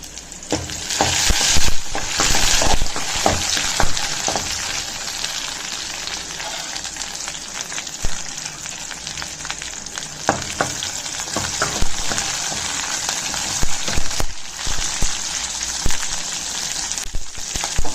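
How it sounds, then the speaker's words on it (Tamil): Shallots, curry leaves and dried red chillies frying in hot oil after mustard seeds pop, a loud, continuous close-up sizzle with crackling spatters and occasional stirring scrapes throughout. "கடுகு பொரிஞ்சதும் சின்ன வெங்காயத்தையும் கருவேப்பிலையும் சேர்த்துக்கலாங்க"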